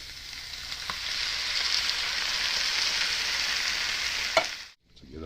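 Onions frying in a pan for chile rellenos, a steady sizzle with a couple of utensil clinks, then a sudden drop to near silence before the frying resumes.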